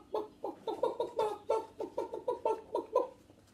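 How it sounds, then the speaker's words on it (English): A chicken clucks about a dozen times in a steady, evenly spaced run of short, close, moderately loud bursts, with no other sound around them. "Who says cluck? A chicken says cluck."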